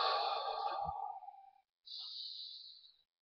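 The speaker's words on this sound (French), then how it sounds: "nous allons prendre quelques bonnes respirations profondes" A guided sophrology relaxation session with deep breathing: a long, close exhale, a short pause, then a softer second breath, quiet and with no talking.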